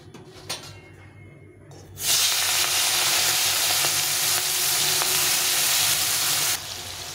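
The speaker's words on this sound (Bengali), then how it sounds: "আর এখানে কড়াইতে তেল দিয়েছি, মাছটাকে ভেজে নেব।" Shrimp fry in hot oil in a wok, a loud, steady hiss of sizzling that bursts up suddenly and holds before easing slightly near the end.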